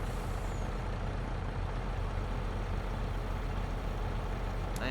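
A farm truck engine idles steadily and close by in a rural Upper Mississippi River Valley setting, a continuous low rumble that runs unbroken throughout with no speech.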